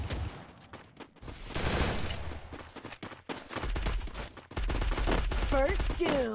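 Gunfire from an M10 in a sniping video game comes in loud, clustered bursts and rapid volleys with brief gaps between them, tinny electronic tones near the end.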